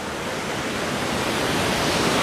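Sea waves on a crowded beach in Spain: a steady, loud, broadband wash of surf with no break and no speech.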